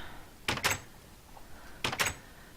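Two pairs of short, sharp mechanical clunks of a Minecraft iron door, each a quick double thud, separated by about a second of quiet.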